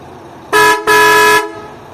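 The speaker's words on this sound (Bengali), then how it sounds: "স্যার একটু হর্নটা মারুন, একটু হর্নটা দিন।" An SBSTC Volvo B9R bus sounds its horn in two loud, close blasts, a short toot followed by a longer held one, then quiet idle background.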